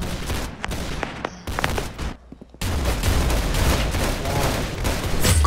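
Rapid bursts of video game gunfire crackle loudly and densely, with a brief lull midway before sustained shooting resumes to the end.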